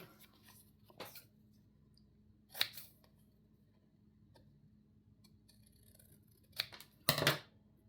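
Scissors cutting a page out of a small 3 by 4 inch notebook, a few separate crisp snips spread over several seconds, close and clear in a quiet room, the last snip louder and doubled.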